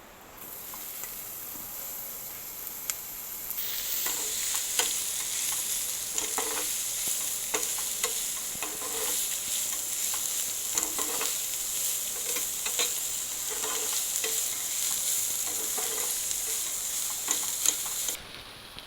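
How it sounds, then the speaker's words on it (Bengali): Spicy chili paste frying in hot oil for a green banana chop filling, a steady bright sizzle throughout with occasional stirring scrapes, close and continuous. "এই আমি তেল দিলাম, আমি ওই চপে যে ঝাল পেস্টটা দেবো আমি একটু ভেজে নেব"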